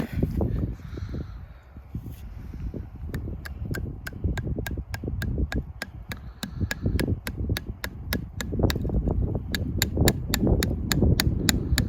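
A hammer drives a metal tap into a maple tree outdoors, with a long run of sharp, evenly spaced metallic knocks in quick rhythm, close and crisp, over rustling and handling noise.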